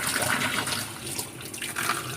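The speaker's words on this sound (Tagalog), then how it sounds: "Ayan, lagyan natin ng tubig," Tap water runs steadily into an electric frying pan during a repair check, a continuous splashing rush with no talk over it.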